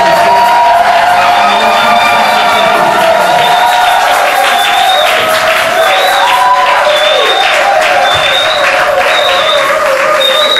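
A church congregation cheers and acclaims at a prayer service in Luanda, a dense, loud wall of applause and shouting voices that holds steady, with high whoops rising above the crowd.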